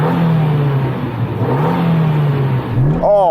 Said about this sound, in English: So I'm going to rev up my little Jimny.